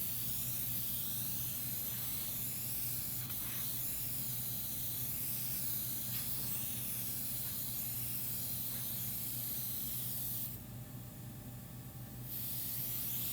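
A facial machine sprays a steady, soft oxygen mist onto the neck during a facial treatment, a continuous close hiss that holds even throughout and briefly changes tone near the end.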